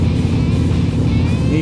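A Harley-Davidson Low Rider S motorcycle cruises along Texas backroads at 5:45 AM, its engine a loud, steady low rumble that holds an even drone throughout, with wind rush layered over it.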